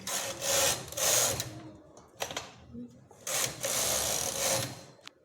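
A knitting machine carriage sweeps back and forth knitting rows of a baby romper, producing loud whirring passes separated by clicks and brief pauses, with a person talking over it.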